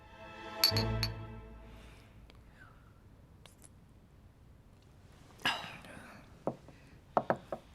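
Glasses clink together in a toast at a welcome banquet, two bright, close chimes in quick succession, followed by quieter tableware taps and rustling in a hushed room.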